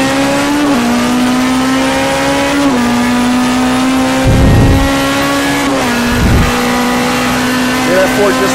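Race cars, including a BMW and a Mercedes, accelerate out of a corner at the Long Beach street race, with a steady engine drone that shifts pitch and occasional deeper bursts under continuous commentary.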